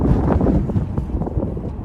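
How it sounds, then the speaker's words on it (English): Strong wind buffets the microphone with a steady, loud rumble throughout. "It's windy."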